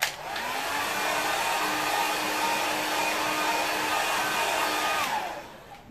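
A hair dryer blows steadily and fairly loudly to dry paint on a wooden board during a woodland landscape painting, running for about five seconds before it cuts off.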